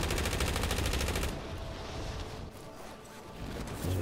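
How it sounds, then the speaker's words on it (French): Rapid automatic gunfire from a first-person shooter video game, a loud dense burst of repeated shots for over a second, then quieter scattered firing and game ambience. "C'est tiré devant moi"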